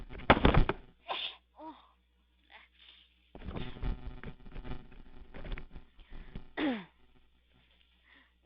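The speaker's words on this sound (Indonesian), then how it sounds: "iya mau flu. Jadi bersin-bersin dari tadi." A person with a cold sneezing and clearing the throat a few times in a quiet room, close and loud, with short breathy bursts between pauses.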